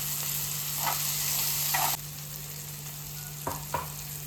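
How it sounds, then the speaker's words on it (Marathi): Green masala paste sautés in oil for okra fry, a steady broadband sizzle with a low steady hum beneath, broken by a few soft spatula scrapes and stirring clicks near the middle and end. "हे बघा मस्त आपलं जे वाटण आहे आपल्याला व्यवस्थित इथे परतून झालेलं आहे."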